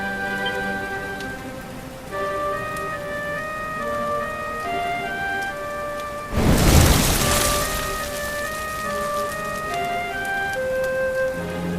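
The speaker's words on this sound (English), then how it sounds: "Looks like the rain's dying down." Steady rain falls in the Dragon Quest XI role-playing game, a dense even patter that swells into a brief heavier gust midway, with soft musical tones ringing over it and no voices.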